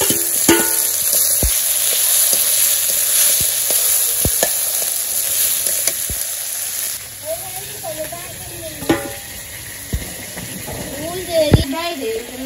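Ginger, garlic and onion paste sizzles loudly and steadily in a hot pan with sharp clinks of a utensil against it, while a voice talks over parts of it.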